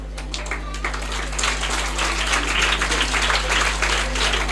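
A school audience claps during the director's speech, a dense, sustained patter of many hands over a steady electrical hum, rising slightly in intensity.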